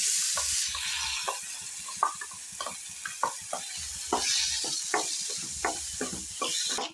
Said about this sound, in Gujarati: હવે વધેલા ઘીમાં આપણે પલાળેલા ચોખાને સારી રીતે સાંકળી લેશું